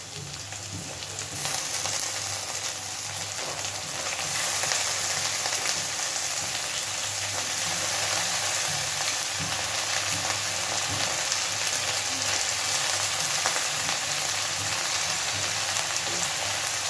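Chopped eggplant and shrimp fry together in a pan with a steady, close, even sizzle that holds from start to finish, with no voices over it.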